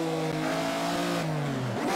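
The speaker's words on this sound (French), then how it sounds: "Vraiment excellent cette Ferrari, et le son est plutôt réussi, je trouve" A Ferrari engine revs in the Assetto Corsa racing game, GT Legends mod, as a harmonic whine that drops steadily in pitch over two seconds, close and alone with no talk.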